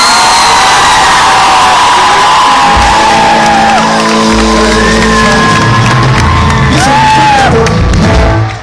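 A loud concert crowd at Barba Negra cheers, whoops and shouts continuously for the band, with the roar swelling and holding steady throughout.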